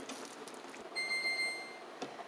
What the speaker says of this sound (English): timer went off after 10 minutes for the second round